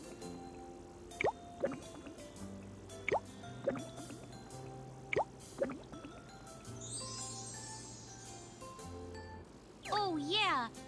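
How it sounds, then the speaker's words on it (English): Cupcake batter poured into a mold in a children's cooking game, rendered as a run of cartoon drips and bloopy liquid plops, followed by a rising sparkly jingle and a bright bouncy tone at the end. "Now pour them into the mold."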